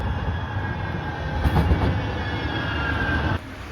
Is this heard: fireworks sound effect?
no